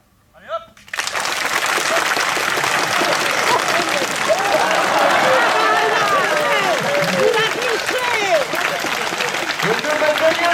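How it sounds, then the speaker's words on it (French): An audience applauds loudly at a live event, a dense sustained roar of clapping with cheers and whistles rising over it, starting abruptly after a brief quiet moment. "Si vous voulez que Grigo gagne, il va falloir applaudir très très très fort."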